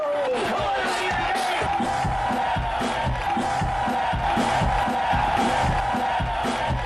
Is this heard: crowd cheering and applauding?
yes